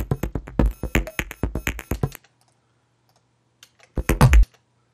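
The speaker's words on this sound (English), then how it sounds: "let's hear this other glitchy loop I prepared for you" A glitchy techno loop plays in Logic Pro as a run of rapid, stuttering, clicky bursts. It cuts to silence, then returns for a short final burst.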